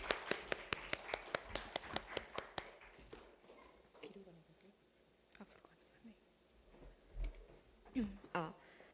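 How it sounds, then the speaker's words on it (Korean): An audience at a data competition results presentation gives a short burst of rapid, sharp applause, which fades into quiet room noise with scattered taps and a voice speaking. "박수로 모시겠습니다"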